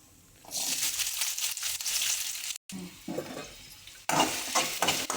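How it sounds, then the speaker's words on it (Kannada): Onion fries in about two tablespoons of oil in a pan, a close sizzle broken by bursts of stirring, with a brief drop to near silence midway before the frying noise returns loudly. "ಸ್ವಲ್ಪ ಸ್ವಲ್ಪ ಫ್ರೈ ಆಗಬೇಕು ಬ್ರೌನ್ ಕಲರ್ ಆಗಬೇಕು"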